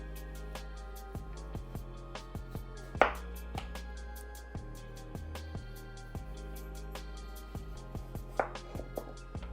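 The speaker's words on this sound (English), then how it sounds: "you're going to slice thinly first, vertically" A knife cuts thin vertical slices of vegetables on a board for low-carb sushi rolls. The chops land as quick, even taps on the board, with a few sharper knocks in between.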